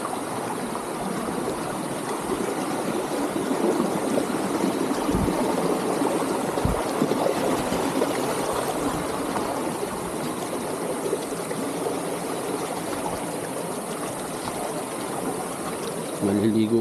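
Water flows continuously at a lagoon on lot 80 in Barangay Bagong Silang, Real, Quezon, giving a steady, full rushing wash like a stream that holds at an even loudness, with a couple of brief low thumps partway through.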